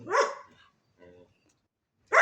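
Dogs outdoors bark in short separate bursts, one loud close bark followed by a fainter one and another sharp bark at the end, with silence between.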